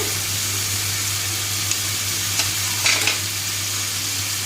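Tomato and chili paste (ten chilies, one whole tomato) added to a hot frying pan, giving a loud, steady sizzle with a low hum beneath and a few brief stirring scrapes near the end, no voices.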